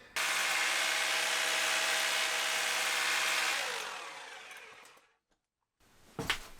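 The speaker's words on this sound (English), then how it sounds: "So I got my drill out." A power drill whines steadily at high speed for several seconds while widening holes in a concrete beam, then winds down and stops, followed by a brief scraping clatter.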